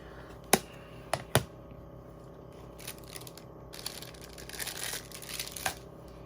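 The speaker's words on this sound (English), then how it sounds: "those are the pieces, and now they're going to get die cut out" A die cutting machine presses paper card pieces, opening with three sharp clacks followed by a steadier grinding, crunching run as the pieces are cut out, close up with no voices.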